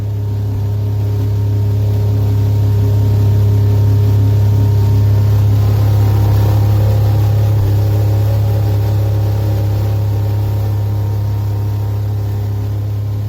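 Small cabin cruiser motorboat engine running at sea, a loud steady low drone with constant humming tones, holding an even pitch and level for the whole stretch with no voices.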